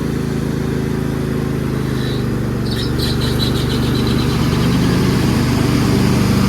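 Troy-Bilt lawn tractor engine with its PTO engaged, running steadily and loudly close by with a constant drone and brief higher metallic rattles partway through.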